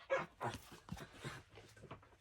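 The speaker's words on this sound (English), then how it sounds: "Oh, my dogs are playing." Dogs playing indoors, a quick run of soft yips, whimpers and muffled play growls at low volume, irregular and bursty, with no people talking.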